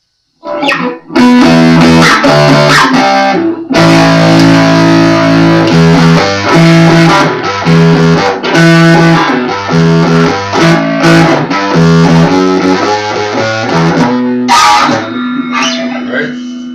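Distorted electric guitar, a Les Paul kit guitar, playing chords and riffs, loud and continuous with brief pauses between phrases.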